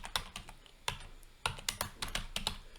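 Keys clatter on a computer keyboard in quick irregular bursts of close, crisp clicks, quiet and with no voice.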